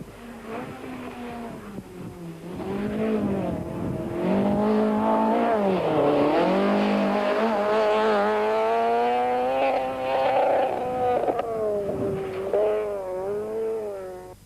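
A Golf Synchro rally car runs a 1993 Mountain Trail rally stage, its engine loud and close with rising and falling revs across gear changes, sustained throughout with no talk.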